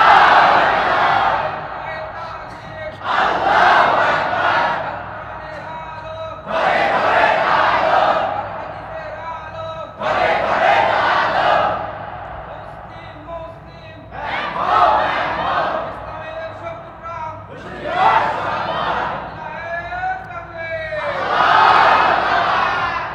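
A crowd at a religious gathering shouting takbir in loud unison roars, about six bursts with short quiet gaps between them.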